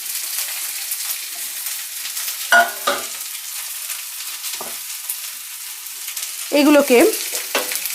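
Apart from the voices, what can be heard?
garlic and ginger frying in a pan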